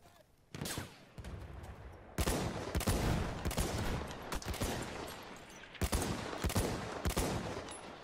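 Repeated loud volleys of rifle and machine-gun fire in a World War I shooter video game, including a drum-magazine weapon, coming in dense overlapping bursts with brief pauses, close and continuous, with no talking.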